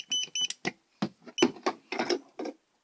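A voltage detector beeps in a quick irregular run of short, shrill tones, starting with sharp high chirps and then moving into lower, denser pulses, close and moderately loud.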